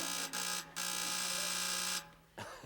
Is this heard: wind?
no